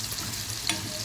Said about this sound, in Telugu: గోల్డ్ కలర్గా వేగితే బంగాళదుంపలు బాగుంటాయి.